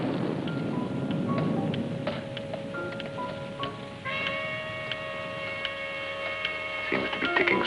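A time bomb ticks steadily and faintly through a quiet room, the regular clicks sitting over a low hum with a few brighter metallic tones.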